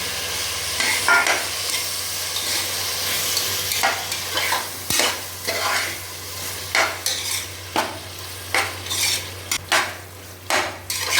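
Steady sizzling of tomatoes frying in a pan with onions, punctuated by sharp clinks and scrapes of a spoon stirring against the metal, with no talking.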